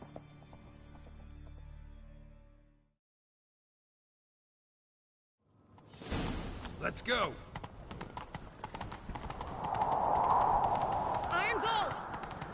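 Horse hooves gallop in The Witcher 3: after a silent gap, loud, rapid clip-clopping rises close by with a neigh-like cry and continues steadily. A voice calls out briefly.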